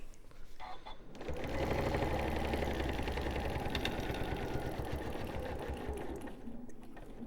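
A domestic sewing machine set to a long stitch length hums into a steady run of rapid stitching, loud and close, then keeps going, with no talking over it.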